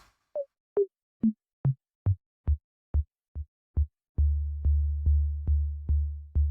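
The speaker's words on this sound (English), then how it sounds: "And that almost sounds like a kick drum already." Synthesized psy-trance kick drum hits from a U-He Diva synth, evenly spaced, starting as short pitched blips that drop lower, then becoming deeper, longer booming thumps in a steady beat.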